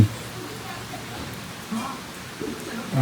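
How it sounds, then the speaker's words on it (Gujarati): Steady rain patters in a soft, even hiss, with faint voices now and then in the background. "અમારો વરસાદ ચાલુ થઈ ગયો"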